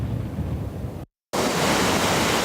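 Ocean surf crashing under and around Flagler Beach Pier during Hurricane Matthew, a loud, continuous roar of waves and wind that cuts out briefly and then returns at full strength.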